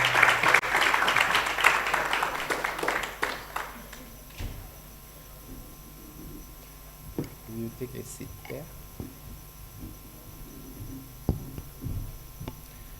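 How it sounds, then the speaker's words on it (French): Conference panel audience in Cameroon applauds a welcomed guest, a dense burst of clapping for about four seconds that then fades into room hum, scattered knocks and faint murmuring. "Sous vos applaudissements, s'il vous plaît."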